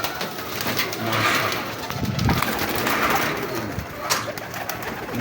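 Pigeons kept by a fancier coo softly among the birds, a steady low murmur running beneath nearby talking voices.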